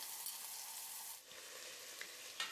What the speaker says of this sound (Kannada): ಎಣ್ಣೆಯಲ್ಲಿ ಚೆನ್ನಾಗಿ ಫ್ರೈ ಆಗಬೇಕು